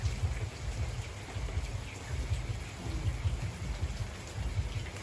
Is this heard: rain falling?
yes